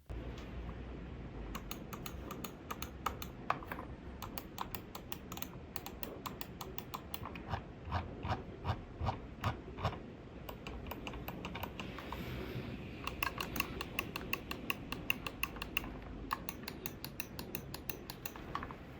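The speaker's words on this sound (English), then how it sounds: "Each one has a really satisfying click, they're responsive, feel good quality" Buttons on a Logitech G305 Lightspeed wireless gaming mouse are pressed repeatedly, giving a rapid series of crisp, close clicks in quick bursts with short gaps, steady and moderately quiet.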